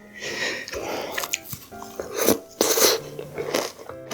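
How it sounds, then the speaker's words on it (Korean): Someone eating mango bingsu, shaved milk ice topped with soft mango, with close-up crunchy chewing and biting. Uneven bites and small slurps come in bursts, with no talking. "이번엔 망고까지 해서 먹어보겠습니다."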